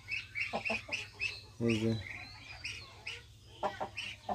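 Clucking from a colour bird rooster on a village poultry farm with hens and ducklings: short bursts of calls, one louder call near the middle, someone speaking briefly over the farmyard din.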